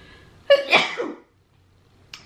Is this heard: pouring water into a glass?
no